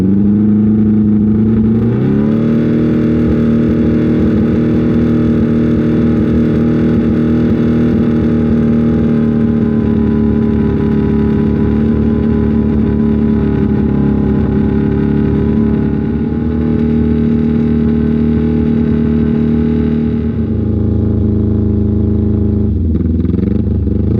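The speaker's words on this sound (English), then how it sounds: "finally I got the damn bike to stay on idle" Carbureted motorcycle engine starting up after a brief crank, then settling into a steady, loud idle with a constant low mechanical drone and light clatter, heard close up with no talking.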